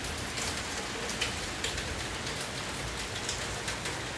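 Steady rain falls in front of a house, a constant close hiss of drops on surfaces with a few sharper individual drips and no talk.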